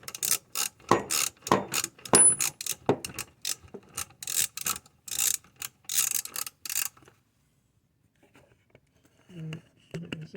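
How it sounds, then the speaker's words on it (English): A socket ratchet clicks in quick, close bursts while tightening bolts on a bench grinder mount, then falls quiet with a few faint knocks near the end. "tighten the bolts there. Use sockets."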